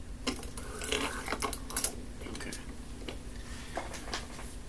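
A cane-gouging machine pre-gouges a blank of oboe cane, giving a steady mechanical scraping with irregular ticks and clicks at close range, fairly faint and with no voices.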